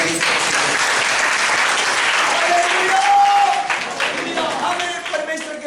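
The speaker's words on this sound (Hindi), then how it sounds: "जोरदार ताली बजाइए।" Loud, dense applause from a large congregation at a church service, continuous throughout, with faint organ-like tones rising beneath it.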